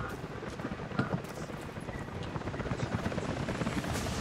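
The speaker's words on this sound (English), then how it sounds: "helicopters are headed your way" A video game helicopter thrums overhead with a steady, dense rotor chop that builds slightly louder across the stretch, and no voices are audible.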